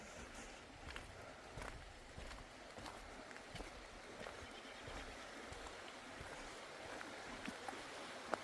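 Small river flowing outdoors, a faint, steady watery rush with scattered soft splashes and light footsteps-like taps throughout.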